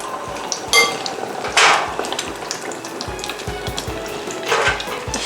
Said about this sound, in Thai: ชุบโอรีโอเลยค่ะ ชุบให้ทั่ว ใส่ลงไปทอดเลย